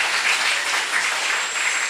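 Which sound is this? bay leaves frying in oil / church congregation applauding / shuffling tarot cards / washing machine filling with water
church congregation applauding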